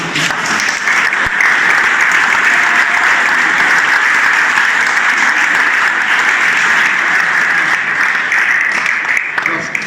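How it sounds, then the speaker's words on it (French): An audience at a museum exhibition event in Meaux applauds warmly, a loud, even wash of clapping held steady throughout with no break. "je vous demande de l'applaudir"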